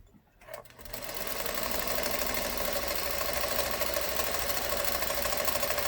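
A sewing machine stitches steadily along the edges of fabric pieces being collaged onto a hat, a continuous close whirring hum that starts after a brief pause and runs alone without talk.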